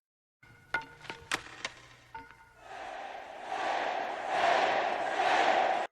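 Crowd in Escape from New York erupts in loud, sustained shouting and roaring that swells and holds for several seconds, following a few sharp thuds and clatters at the start.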